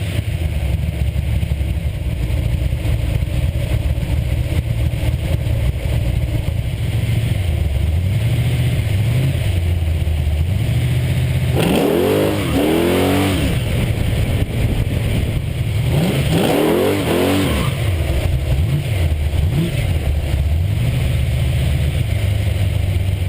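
A 1972 Chrysler Valiant four-door sedan with a big block engine, tunnel rams and wheel tubs, rumbling at a steady loud idle, then revving sharply twice in rising and falling bursts before settling back to idle.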